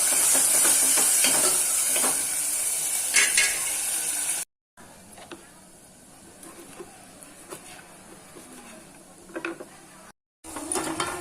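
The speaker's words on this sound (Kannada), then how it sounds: "ನೋಡಿ, ಈ ಥರ ಫ್ರೈ ಆಗಬೇಕು ಚೆನ್ನಾಗಿ" Chopped tomatoes fry in a pan for a drumstick-leaf sambar, a steady close sizzle with scattered spatula scrapes and clicks, interrupted by two brief silent gaps.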